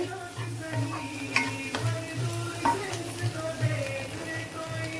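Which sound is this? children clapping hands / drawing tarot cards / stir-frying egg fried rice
stir-frying egg fried rice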